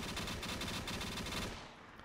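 Rapid automatic gunfire in a zombies video game, a dense rattling burst of shots repeating for about a second and a half before tapering off, loud and close with no talking.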